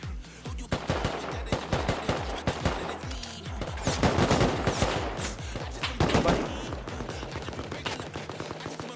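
Rapid bursts of AK rifle gunfire in the survival game Rust, sharp repeated shots in fast automatic strings with brief pauses, loud and close, some distant shots mixed in.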